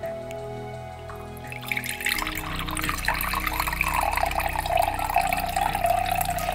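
Coconut milk pours steadily through a French press into a container, a continuous splashing trickle that grows fuller after a brief quiet start.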